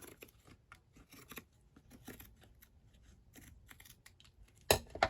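Scissors snip through a thick header section in a rapid series of close, crisp cuts, with a louder rustling crunch near the end.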